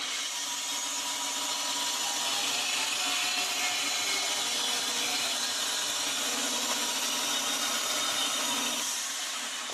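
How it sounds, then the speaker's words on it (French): Band saw steadily peeling away the charred outer layer of a block of wood, a continuous gritty rasping cut at close range lasting about ten seconds, with no voices. "je vais éplucher un peu comme une pomme de terre avec ma scie à ruban, toute la partie carbonisée"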